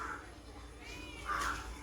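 A cat meows twice indoors, a faint short call followed by a louder drawn-out one, heard up close over a quiet room background.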